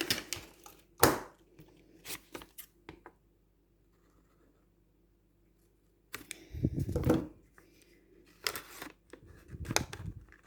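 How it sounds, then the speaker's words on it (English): Scissors cut paper for a handmade junk journal folio: crisp, close snips in short bursts, a quiet pause in the middle, then another run of cuts. "Scissors."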